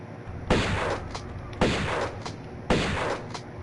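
Three bursts of Uzi gunfire from the Tomb Raider 1 Remaster game, each a sharp loud onset about a second apart that decays with a ringing tail, over a steady low background.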